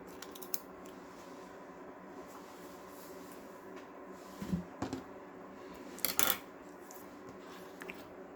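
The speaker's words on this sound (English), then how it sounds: "just cut that off." Scissors cutting through paper while making an F-14 Tomcat paper plane, a few quiet snips and crisp clicks scattered over a faint background, with no voices.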